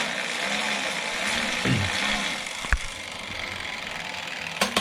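A Chedech full-carbon minivelo with an internal 5-speed hub rolling in first gear: a faint steady whir and road hiss close by, with a few sharp clicks and knocks near the end, no talking.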